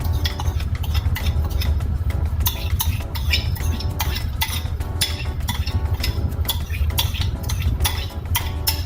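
Utensil stirring and mixing a creamy cucumber salad in a bowl, a busy run of clinking scrapes and soft wet churning that continues steadily throughout, with no talking.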